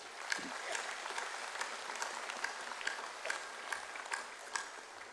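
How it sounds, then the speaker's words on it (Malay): A hall full of UMNO assembly delegates gives a round of applause for the secretariat, steady dense clapping from a large crowd heard at moderate distance, with a few sharper claps standing out. "saya ingin tuan-tuan memberikan tepukan kepada pihak urus setia"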